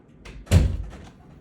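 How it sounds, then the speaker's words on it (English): A single solid thud of a house door being shut, preceded by a short scrape of movement, close and fairly loud, then fading into quiet. "Shut the door, please."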